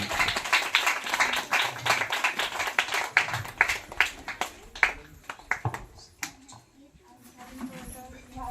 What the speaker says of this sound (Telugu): అందరూ చప్పట్లు కొట్టి మన సార్ను ఆహ్వానిద్దాం